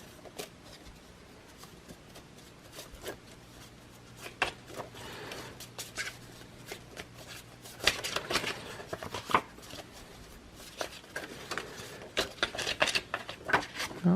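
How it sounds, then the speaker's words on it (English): Tarot cards are shuffled by hand at close range, giving soft riffling and slapping bursts in irregular runs that grow denser and louder toward the end, with no voices. "That was some great shuffling, wasn't it?"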